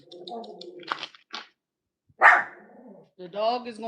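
Several dogs bark in short bursts, close and fairly loud, with silent gaps between the barks and a person's voice alongside.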